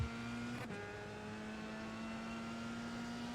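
Simulated Dallara F3 open-wheel race car in iRacing at Daytona road course, engine holding a steady high drone with a brief gear-change dip early on, continuous and close, no talk.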